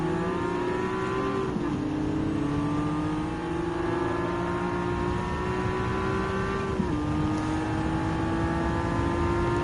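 Gran Turismo 7 race car engine held at a steady high whine with harmonic layers, dipping briefly around shifts and then climbing again, loud and continuous with no talking.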